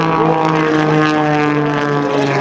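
Aerobatic propeller airplane flying inverted aileron rolls low over the deck at a 2005 airshow at NAS Oceana, a loud steady engine drone with a strong tonal hum, close and continuous.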